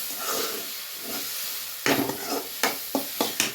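Food cooking in a pan hisses and sizzles, punctuated by several close scraping stirs of a spoon against the pan in the second half.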